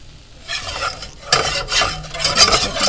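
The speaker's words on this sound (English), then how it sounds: "I'm just stirring this around." Parmesan lemon noodles stirred around a hot pan, with soft scraping and light sizzle in uneven bursts, close up and with no talking.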